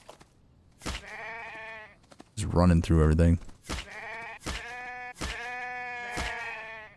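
Sheep bleating in the survival video game The Infected: several loud, close bleats in a row, one long wavering cry in the middle, with someone talking briefly over them.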